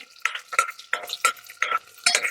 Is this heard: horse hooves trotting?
no